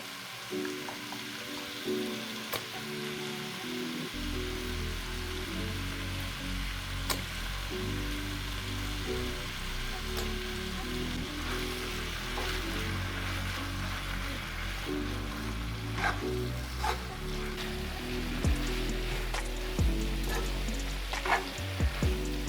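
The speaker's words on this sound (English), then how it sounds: "Now I'm adding this Japanese barbecue sauce that I picked up from Sam's, which has ginger, soy, and garlic in it" Japanese barbecue sauce with ginger, soy and garlic sizzles steadily in a hot stir-fry pan, a dense continuous frying hiss that runs throughout with a few faint clinks and no talking.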